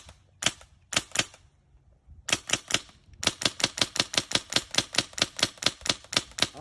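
An airsoft gun fitted with a Polarstar regulator fires BBs: a few sharp, isolated snapping shots at first, then a fast, evenly spaced string of crisp cracks close by.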